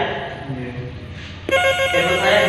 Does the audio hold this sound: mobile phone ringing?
yes